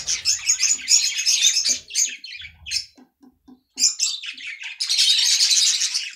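Budgerigar chicks in a nest give busy, high, scratchy chirps and squawks in bursts, close and fairly loud, with a brief quieter pause before a dense chorus resumes.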